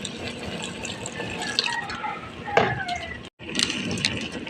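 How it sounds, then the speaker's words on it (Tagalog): Vinegar and water are poured into a pan of fish paksiw, giving close splashing and trickling liquid sounds with a short break, while a person talks at times. "Kunting suka, kunting tubig, water."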